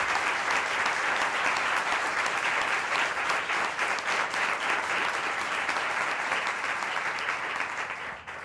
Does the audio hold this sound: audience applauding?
yes